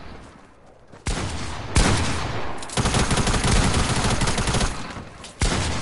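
Loud video game gunshots arrive in several abrupt bursts of rapid fire separated by short quieter gaps, close and punchy.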